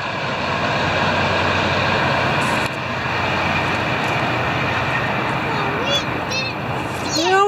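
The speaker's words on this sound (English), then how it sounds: "That's a freight train." A freight train passing nearby out of sight in a provincial park, heard as a steady, loud rumbling drone that fills the whole stretch, with children's voices and birdsong over it near the end.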